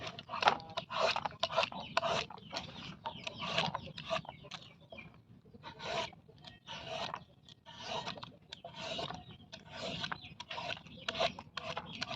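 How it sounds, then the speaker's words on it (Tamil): Red watermelon flesh is scraped from the rind with a steady run of close, rhythmic rasping strokes for halva-making, continuous and alone with no talking. "இதெல்லாம் சுத்தமாக சுரண்டி எடுத்துக்கலாம் சிகப்பாக இருக்கிறதெல்லாம்"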